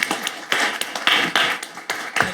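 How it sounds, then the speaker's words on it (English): An audience at a Mississippi Public Service Commission public meeting breaks into applause, heard as uneven, scattered bursts of clapping rising and falling rather than a steady roar. "Let's give them a round of applause."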